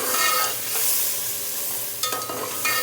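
Mutton and yogurt being stirred together in a cooking pot, a steady scraping and sizzling stir with a few sharper clinks and scrapes near the end, close and continuous with no talking.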